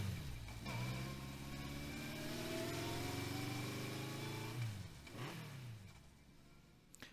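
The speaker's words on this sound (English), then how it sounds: "She took off on her motorcycle." A motorcycle engine revs hard and then pulls away, loud and close for several seconds before the sound drops sharply and a second brief rev follows. It is a game sound effect from the Steins;Gate 0 visual novel, and no one speaks over it.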